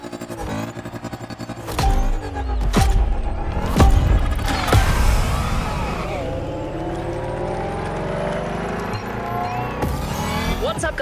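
A Renault Trésor concept car drives in The Crew Motorfest racing game, its engine revving and climbing in pitch through gear changes, with brief tire squeals and loud close-up engine noise throughout.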